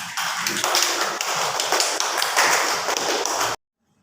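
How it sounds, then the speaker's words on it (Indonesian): A class of students applauds a group's work, a dense, continuous patter of many hands clapping at once that holds steady for several seconds and then cuts off abruptly into silence. "ini tepuk tangan"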